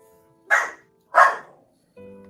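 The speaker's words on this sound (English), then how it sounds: "Oh, that's something too. That's a dog." A dog barks twice in quick succession, loud and close, with a short gap between the barks and a faint tonal hum at the end.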